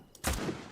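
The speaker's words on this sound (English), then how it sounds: "I shot that dude in the head." A gunshot in a first-person shooter video game, a headshot on an enemy, lands as one loud, sharp burst followed by a short rumbling tail, standing alone with no talk over it.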